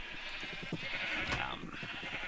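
Minecraft sheep on the Chainworld map bleat in a short, wavering run of calls over a steady ambient hiss.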